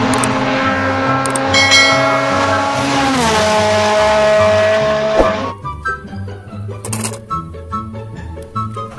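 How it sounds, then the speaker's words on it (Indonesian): A race car's high engine whine climbs and holds, ending in a sharp tire squeal and skid. Quieter clattering, rhythmic sounds follow, all loud and close with no speech. "lihat ada mobil balap teman-teman"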